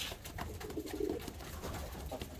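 Pigeons cooing softly at a loft, a few low burbling coos under faint background rustle and noise, quiet and fairly close.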